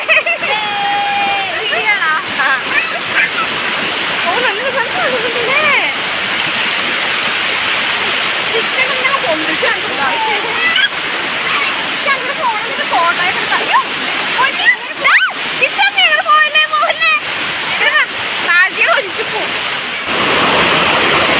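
Chalavara waterfall gives a loud, unbroken roar of rushing water, with people's voices and calls rising over it throughout.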